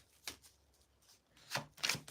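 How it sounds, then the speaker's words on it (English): Soft riffling card shuffles come in a few brief bursts, close and quiet, with near silence between them. "Let me shuffle again."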